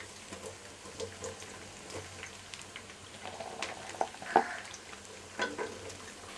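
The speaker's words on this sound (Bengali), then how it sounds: "তেল গরম হয়ে গেছে, আমি এখন এতে রসুন কুচি দিয়ে দিচ্ছি" Chopped garlic sizzles in hot oil in a pan for a Bengali vegetable khichuri, a steady close frying hiss with scattered pops and scraping stirs.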